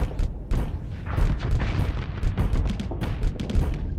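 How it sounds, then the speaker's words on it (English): Bombs exploding against a ship in the space combat game Starsector, a dense rapid barrage of heavy booms and blasts rolling continuously, loud and close, with no speech. "something's hitting me in the back. What are those? I think those are bombs."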